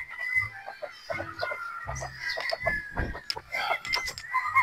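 Pure Boston Roundhead straight comb roosters cluck in repeated short, throaty bursts close by, with other fowl calls and some background clatter mixed in.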